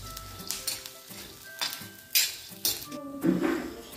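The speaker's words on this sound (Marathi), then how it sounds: "जिरे सुद्धा 1-2 मिनिटे परतून घेऊयात।" Cumin seeds sizzle and crackle in hot oil with peanuts and garlic as a groundnut chutney base is roasted, with intermittent stirring scrapes and light clinks of a spoon against the pan.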